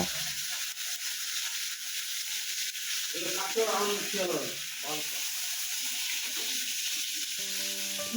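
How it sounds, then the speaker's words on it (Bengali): Fish pieces fry in hot oil in a small wok, a steady close sizzle running the whole time, with a faint voice briefly heard over it. "এই যে ছোট্ট কড়াইটা সাইডে চাপিয়ে দিয়ে এখানে আমি মাছগুলোকে এখন ভেজে নেব"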